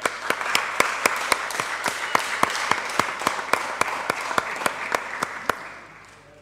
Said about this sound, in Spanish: Aplauso